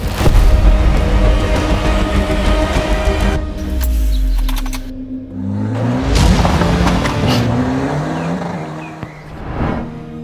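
A car engine starting up and pulling away, with a loud rumble that rises and falls as the revs climb and shift, running steadily close by for about ten seconds with no talk.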